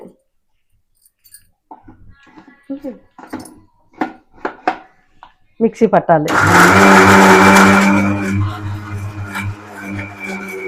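A mixer grinder blends spice masala with a little water for Andhra-style stuffed brinjal curry. The blender starts loud and steady after a few seconds of speech and kitchen clatter, then runs continuously to the end.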